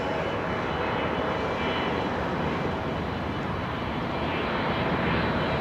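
Qatar Airways Boeing 777 airliner at London Heathrow Airport: a steady, broad jet roar that holds loud and even throughout, with no voices.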